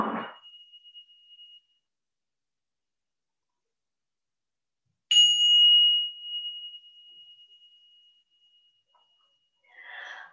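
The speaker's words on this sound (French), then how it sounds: "Alors, j'ai mes petites cloches près ici." Small hand bells struck twice, each a single clear, high ring that sustains and slowly fades, the second lasting several seconds; quiet breathy sounds come before and after.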